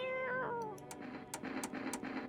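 Mr. Wiggles, a cat in a video game, lets out a drawn-out meow followed by a few short, soft clicking sounds, close and alone with no talking.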